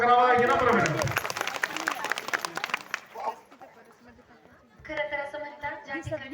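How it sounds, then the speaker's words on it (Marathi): An audience bursts into loud, sustained applause at a women's haldi-kumkum gathering, fading out before a voice speaks and another short round of clapping rises. "माधुरीताईसाठी आपण टाळ्यांचा गजर करावा ही नम्र विनंती."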